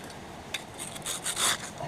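Wet scraping of clay and gravel being pushed back by hand while it is washed down on a gold-prospecting site, heard as a few short rasping strokes, close and moderately loud, with no talk.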